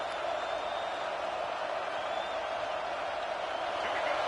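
A video game stadium crowd in NCAA College Football 26 roars in a steady, dense wash of cheering, continuous and moderately loud throughout without breaks.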